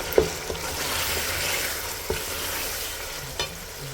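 Ground red pepper sizzles in a ladleful of hot oil for a Tunisian mhamsa dish, giving a soft, steady frying hiss broken by a few light clinks of a spoon.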